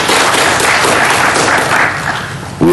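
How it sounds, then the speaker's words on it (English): Meeting audience in Uganda clapping together in a dense, steady burst of applause, loud and close, briefly easing before a final sharp clap cluster. "can we receive him with a clap?"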